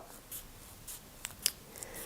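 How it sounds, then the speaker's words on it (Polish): A few sharp snips of very sharp scissors cutting through soft foam sheet, quiet and close, with short pauses between cuts. "Potrzebne są do tego naprawdę bardzo ostre nożyczki."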